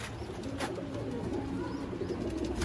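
Sialkoti pigeons with purple feet coo softly in a low, faint murmur, a steady throaty burble with no voices over it.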